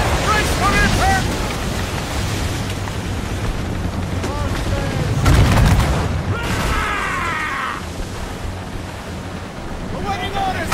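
Naval cannon and mortar fire in Assassin's Creed Rogue: a loud booming blast lands mid-scene over constant roaring wind and crashing ocean waves, with shouted voices of the ship's crew mixed in.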